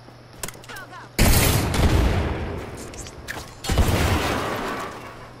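Grenade blasts in a video game shooter, two loud sharp explosions about two seconds apart, each with a rumbling debris tail, over faint background game noise.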